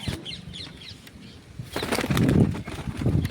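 Several pigeons flutter down to peck at scattered feed, their wings beating in quick, close bursts of flapping that grow louder midway, with soft cooing underneath.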